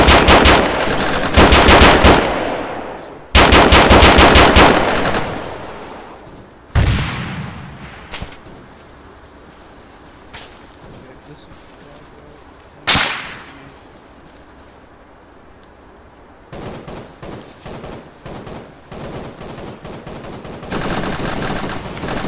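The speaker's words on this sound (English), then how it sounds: "can I get suppressing fire to the northeast?" Loud bursts of automatic machine gun fire in the Arma 3 military game, several long rattling volleys and single sharp shots separated by quieter ambient stretches, with no speech.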